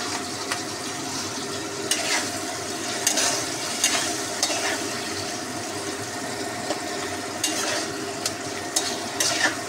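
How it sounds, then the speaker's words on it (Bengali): Paneer sizzles in hot oil in a pan while it is stirred, making a steady soft frying hiss with intermittent scraping stirs up close and no speech. "এবার এটাও একসাথে একটু ভাজা ভাজা হোক, লাল লাল পনিরগুলো একটু কালার আসুক"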